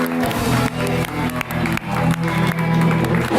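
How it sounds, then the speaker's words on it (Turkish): Studio audience applause on a Turkish late-night talk show, dense steady clapping from a crowd filling the whole stretch, loud and close with a few louder claps standing out. "Bravo! Alkışlıyoruz."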